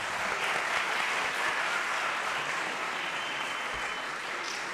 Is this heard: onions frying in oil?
no